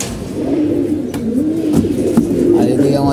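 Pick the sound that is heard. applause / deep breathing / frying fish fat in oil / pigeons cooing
pigeons cooing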